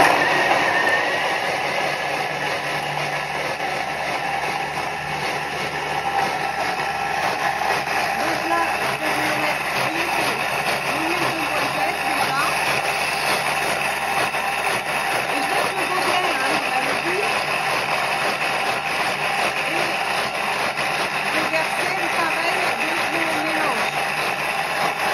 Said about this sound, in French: Donc là, je vais envoyer 5 minutes vitesse 7.